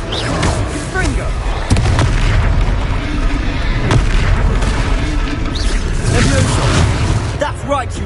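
A Confringo fire spell blasts in a Harry Potter video game, with a steady roar of booming, crackling combat explosions and sharp impacts that run loud throughout and are mixed with game voices.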